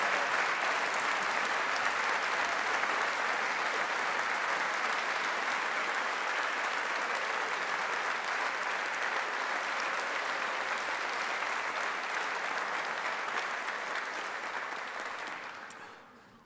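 Sustained applause from a large audience honouring the 2025 graduates at a Strathclyde Business School graduation ceremony, steady and dense for about fifteen seconds before tapering off at the end.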